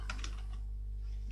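A few quick keystrokes on a computer keyboard as Python Selenium code is entered, light close clicks over a steady low hum.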